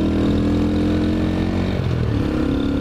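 Motorcycle engine running and revving while riding through muddy water puddles to rinse off the mud: a loud, close, steady engine drone with shifting pitch and some clattering, continuous throughout, with no talking.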